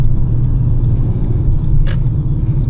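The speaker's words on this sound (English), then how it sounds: "That car that came up behind me, even though he's seen that there was traffic, he's coming up super fast." A car approaches fast from behind in traffic on the Don Valley Parkway during a driving test route, heard as a steady close road rumble with a brief hiss near the end.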